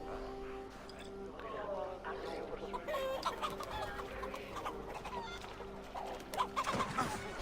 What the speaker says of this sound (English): Chasing chickens.